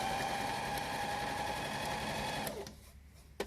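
A Pfaff sewing machine fitted with an invisible (blind hem) stitch foot runs steadily with a close, even motor whir and needle rhythm for about two and a half seconds, then stops, leaving near silence.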